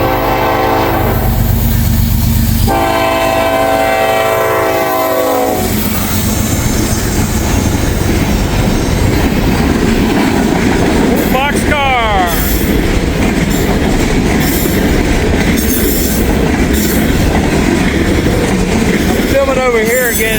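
A loud train rumbles past nearby with a horn blast, steady wheel clatter and brief squealing, voices faintly audible beneath the roar.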